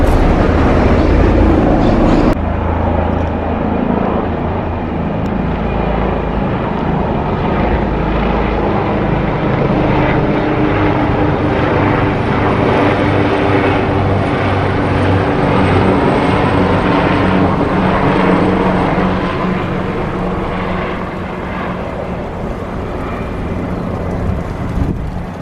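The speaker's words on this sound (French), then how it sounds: "Il y a un balai d'hélicoptères depuis tout à l'heure au-dessus de" Helicopters flying overhead in Rome near the Trevi Fountain and Vatican area, a loud, continuous low rotor and engine roar that persists steadily throughout with no talk.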